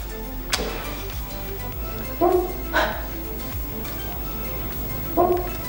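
A sleeping dog named Molly makes soft whimpers and a few muffled, stifled barks while dreaming, three brief yips spaced a couple of seconds apart over a low indoor hum.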